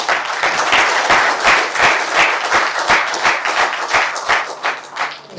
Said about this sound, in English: I think we need to give him one more round of applause.